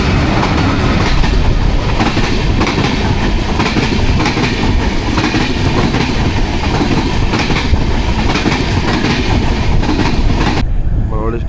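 A train rolls past at a crossing just outside Madgaon, heard from a halted passenger train: loud, continuous rumble and rhythmic clickety-clack of wheels close by for the whole stretch, cutting off abruptly at the end.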